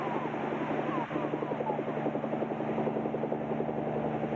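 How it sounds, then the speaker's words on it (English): A long-range helicopter flies toward deserted Galapagos shores, its rotors and engine holding a steady, throbbing drone throughout with no other sounds breaking through. "We reach the deserted shores of the Galapagos by long-range helicopter."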